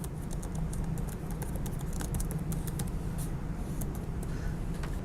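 Keys on a computer keyboard are tapped in a quick, uneven patter of light clicks over a low steady background hum, close and moderately quiet.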